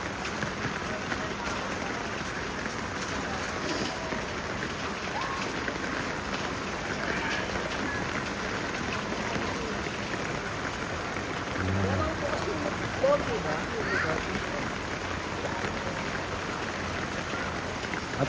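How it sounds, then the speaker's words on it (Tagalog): Heavy rain pouring steadily on a flooded Manila street, a dense continuous hiss of water with faint background rumble and low-level indistinct activity throughout. "At ang ulan ay patuloy na bumubuhos."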